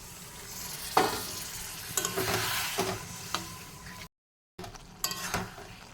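Water poured into a hot pan of cooked-down spice paste for a dried fish curry sizzles loudly, with hissing bursts, stirring scrapes and occasional clinks, a brief silent break, then more sizzling and spoon knocks.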